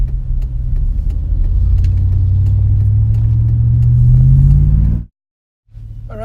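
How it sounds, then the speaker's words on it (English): A car rolls along with a loud, deep, steady rumble from the cabin that swells slightly before cutting off abruptly, then resumes after a short silence. "I gotta drive"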